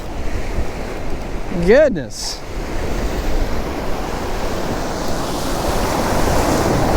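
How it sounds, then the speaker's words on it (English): Ocean waves break and wash up on a beach during surf fishing, a loud continuous surging roar with wind buffeting the microphone and a brief exclamation from a person. "Try to use these waves."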